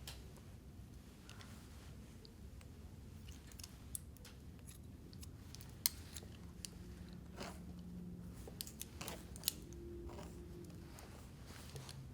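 Scissors snip through sections of hair during a uniform layered haircut, quiet crisp clicks scattered at irregular intervals over a faint background hush, close but soft.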